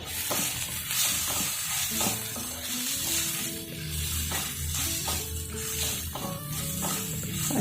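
Boiled potatoes with chaat masala being stirred in a hot frying pan, a continuous close sizzle broken by repeated spatula scrapes, with no voices.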